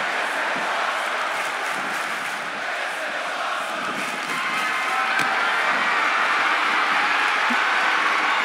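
A wrestling arena crowd roars steadily through a women's tag match with a flaming-table spot, a dense, loud wash of cheering and noise that swells slightly toward the end.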